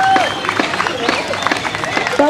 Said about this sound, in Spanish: Yo quiero pedirles un fuerte aplauso para ellos,